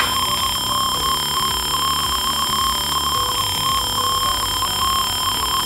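A loud, continuous electronic alarm triggered by a tilt sensor drones on with a pulsing buzz and high steady tones, without letup.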